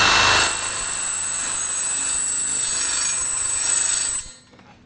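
A bi-metal hole saw drilling stainless steel produces a loud, sustained high-pitched metallic whine with a grinding undertone for about four seconds before cutting off abruptly.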